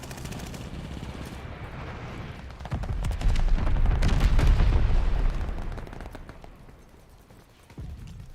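Battlefield combat in Call of Duty: rattling gunfire gives way to a deep, rumbling glide-bomb blast that swells for a couple of seconds, then fades back to scattered shots and a final thump.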